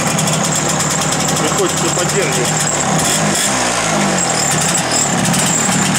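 A 150cc MZ motorcycle from East Germany idles while it warms up. The engine's steady, busy putter carries on without a break, close and loud, while someone speaks briefly over it.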